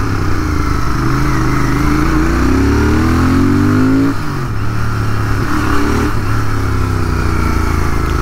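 A 2023 Royal Enfield GT650 twin-cylinder motorcycle rides through traffic, its engine loud and close with a steady drone that climbs in pitch as it revs up, then drops back and pulls again.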